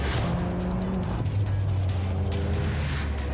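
A car drives hard with its tires squealing, a loud, steady engine roar with sustained tonal whine that runs through the whole stretch, no talk over it.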